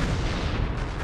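Explosions of TNT in a Minecraft-style parkour video game rumble continuously, loud and dense, with no talk over them.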